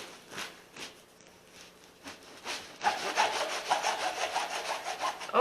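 Knife sawing through crusty jalapeño cheddar no-knead bread, starting with spaced, light rasping strokes and then shifting to a louder, continuous crunchy sawing close by.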